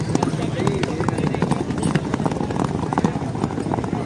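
Horses galloping at a tent pegging event, their rapid hoof clip-clop repeating loudly and steadily over a busy outdoor crowd, with someone commentating throughout.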